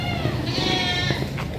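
Goat bleating at a livestock sale in Batangas, a drawn-out wavering bleat with harmonic overtones lasting most of the moment, close and clear over a steady murmur of crowd noise.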